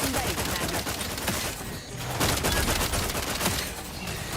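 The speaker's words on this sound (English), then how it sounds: "Swap out for the assault rifle." Assault rifle fire in The Outer Worlds 2 on PC rattles out in dense, rapid bursts of close, loud shots, pausing briefly midway before resuming into a continuous fusillade.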